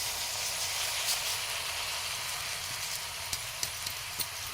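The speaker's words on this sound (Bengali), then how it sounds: "এবার চালটাকে ভালোভাবে নেড়ে কষতে হবে" Rice stirred and fried in ghee with bay leaves in a kadai gives a steady bright sizzle and hiss, with a few faint clicks of stirring toward the end, close and continuous.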